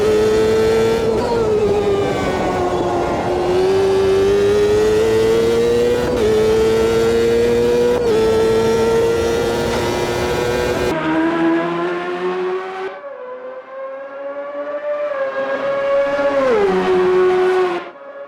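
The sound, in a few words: Champ Car race car engines revving, Automobilista 2 video game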